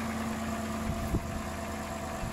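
A car engine idles with a steady low hum and faint rattle, running smoothly at a constant rumble.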